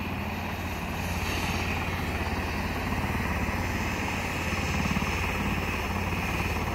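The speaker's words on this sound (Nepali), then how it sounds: "हेलिकप्टरको भिडियो बनाउन नि दिएन।" A helicopter sits on the ground with its rotor and engine running, a loud, steady, rhythmic chopping drone throughout.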